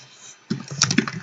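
Quiet hum, then a burst of quick keyboard key clicks tapping in an irregular rhythm, close by.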